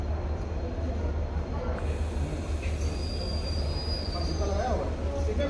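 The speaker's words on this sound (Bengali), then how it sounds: "আর দেখো ট্রেন দাঁড়িয়ে আছে।" A train stands at a station platform, its low steady engine rumble droning continuously with faint distant clanks and muffled voices in the background.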